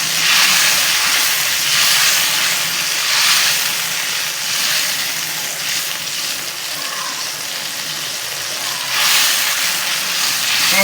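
Honey sauce for honey garlic fried chicken boils in a pan, giving off a loud, continuous, close hiss and sizzle that surges and eases gently for about eleven seconds with no talk.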